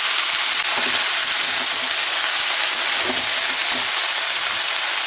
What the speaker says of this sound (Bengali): ভালো করে একটু ভেজে নিতে হয় যতক্ষণ না একটু বাঁধাকপিটা কমে আসছে